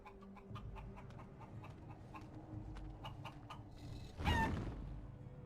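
A chicken in Dragon Age Origins clucks in short, faint, scattered calls over quiet ambient game sound, followed by one louder squawk near the end; no voices.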